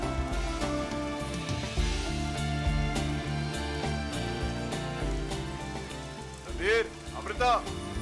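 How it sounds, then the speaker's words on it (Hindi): Steady rain hisses in the background beneath dramatic television music, with brief voice-like sounds near the end. "तू भीग क्यों रहा है बारिश में?"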